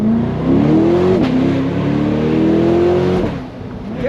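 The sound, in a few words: American rear-wheel-drive supercar accelerating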